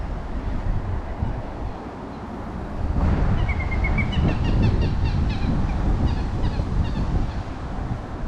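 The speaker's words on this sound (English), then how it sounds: "That sound you hear is a moorhen." A moorhen calls from somewhere out of sight on a lake in a nature park, its short repeated chirps and clucks coming in bursts over steady wind and background rumble.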